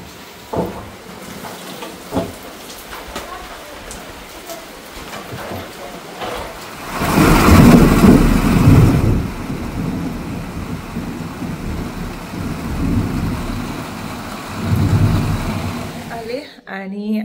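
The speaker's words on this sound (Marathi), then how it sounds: "म्हटलेलं तसं पाऊस सुरू झालायच." Rain with thunder during a monsoon storm: a quiet rainy background swells into a long rolling roar of thunder mid-way, followed by steady rain hiss, with voices speaking in places.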